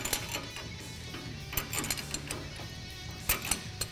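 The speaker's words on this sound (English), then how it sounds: "you might have to hold it with a 10mm socket while you loosen it with a 21mm wrench" A 21mm wrench works on a tie rod during a leveling-kit install on a 2017 F-150 Raptor, producing close, intermittent metallic clicks and ratcheting clanks over a low background hum.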